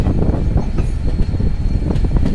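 Passenger train running between Surendranagar and Bhavnagar, a loud continuous rumble with rhythmic wheel clatter and faint squeals, heard close from on board.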